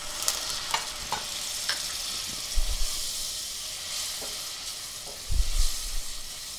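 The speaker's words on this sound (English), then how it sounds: "I'm going to add a shot of bourbon." A shot of bourbon goes into a hot pan with chopped apple for a cider glaze, and the pan keeps up a steady, close sizzle with a few soft stirring scrapes and small bumps.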